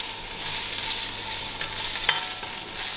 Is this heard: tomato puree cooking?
yes